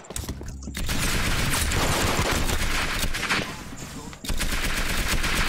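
Rapid gunfire from the golden gun in the video game Arsenal, a dense, loud stream of shots that runs almost continuously, with one brief gap near the end before the firing resumes.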